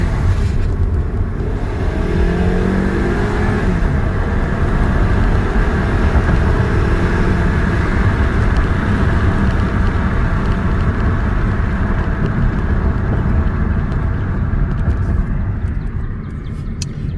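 A 2008 Kia Optima LX with no traction control accelerates hard from inside the cabin, its tires spinning. The engine and road roar stay loud, dense and steady throughout, close up, with no talk.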